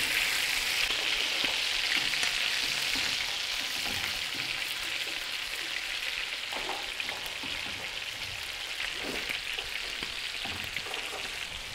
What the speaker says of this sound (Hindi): अब मैं इसमें चिकन की पीसेस शामिल कर लूँगी। चिकन को हमने लाइट से गोल्डन करना है।